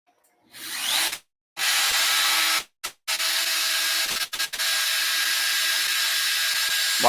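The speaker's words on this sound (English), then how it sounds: "Why is it doing the drilling?" A CNC router drills into wood while cutting dovetails in a workshop, giving bursts of broadband whirring and grinding that start and stop abruptly with short silent gaps between passes.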